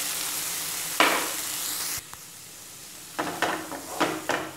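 Hot oil sizzles loudly in a pan as chopped tomatoes are added for mutton gravy, then drops away briefly before bursts of frying resume with stirring scrapes and crackles, close by.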